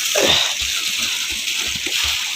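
Water splashes and sloshes close by in short bursts as a younger brother is taught to swim, with faint murmurs in the background.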